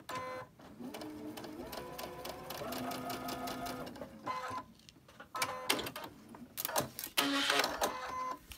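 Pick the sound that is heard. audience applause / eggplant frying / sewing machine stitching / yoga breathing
sewing machine stitching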